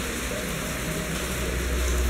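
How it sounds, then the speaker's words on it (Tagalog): Heavy rain pouring steadily, a dense continuous close-up roar of drops hitting surfaces with no break or voices. "Ang lakas ng ulan. Tuloy-tuloy."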